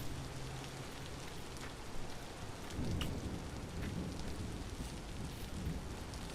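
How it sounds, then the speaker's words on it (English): Steady rainfall and low rolling thunder in a survival-building video game, a constant wash of drops with a soft rumble swelling around the middle, no voices. "Rain's not making this easy."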